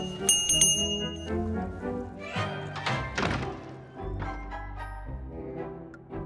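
Bell rung in the point-and-click adventure game The Book of Unwritten Tales 2, several bright metallic strikes with ringing tones over game music and thuds, fairly close and clear.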